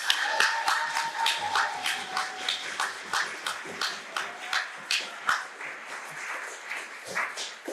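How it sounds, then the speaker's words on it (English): An audience at a City Hall National Indigenous Peoples Day celebration gives another round of applause after a dance performance, with distinct claps in a loose rhythm, near and fairly loud, gradually thinning out. "Another round of applause."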